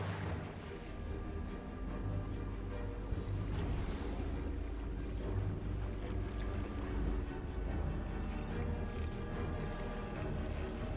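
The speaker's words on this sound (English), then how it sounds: "there we go, my speedboat" A speedboat in the video game Palworld runs with a continuous low engine drone and rushing water, steady and fairly loud throughout.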